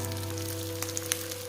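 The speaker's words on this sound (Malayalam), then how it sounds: "നമ്മുടെ സെക്കൻഡ് ബാച്ചും ഇവിടെ ഫ്രൈ ആയി വന്നിട്ടുണ്ട്." Beef pieces frying in oil give a steady soft sizzle with a few small pops and spits, close and continuous, under a constant low hum.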